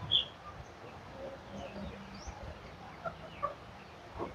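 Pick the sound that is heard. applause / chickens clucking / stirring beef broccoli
chickens clucking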